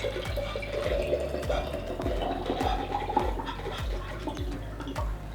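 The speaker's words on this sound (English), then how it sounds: "Now I'm just going to pour it in using a funnel." Homemade teriyaki sauce poured through a funnel into a mason jar, a steady low gurgling liquid flow with soft rhythmic glugs, close and continuous for several seconds.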